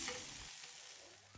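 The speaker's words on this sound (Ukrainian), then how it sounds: "На великому вогні добре її обсмажую з обох боків до утворення ось такої рум'яної скоринки" Steady, dense sizzling of chicken liver frying over high heat in a hot pan, a continuous crackling hiss with no talking.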